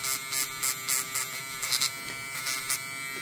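A Bucasso cordless pen sander buzzes against plastic in short, repeated bursts, a thin high vibrating whine rising and falling with each stroke, close but fairly quiet.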